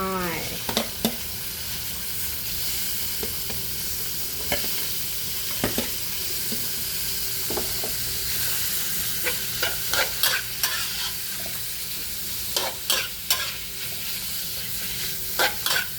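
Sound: stir-frying pork with chili and shallots in a pan

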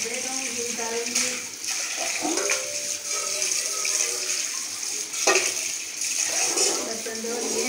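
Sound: washing dishes with running water at the sink

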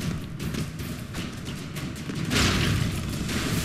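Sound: explosions in Broforce video game

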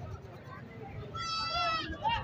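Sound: goat bleating at livestock market

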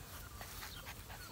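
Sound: puppies whimpering and panting

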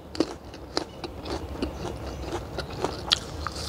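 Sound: biting into crunchy jujube fruit

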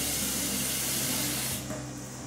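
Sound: water running from filtered tap into a pot

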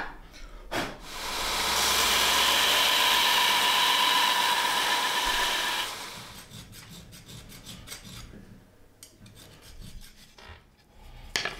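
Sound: belt sander working a katana fitting

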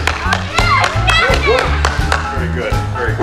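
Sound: family clapping applause

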